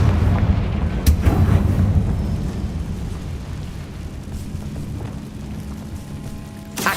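A Confringo fire spell goes off in Hogwarts Legacy with a loud, booming blast that rumbles and fades over several seconds, followed by a fainter crack near the end.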